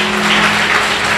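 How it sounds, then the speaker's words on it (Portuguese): A church congregation applauds in a brief, dense burst of steady clapping, with a faint tonal hum underneath. "Aplauda o Senhor Jesus."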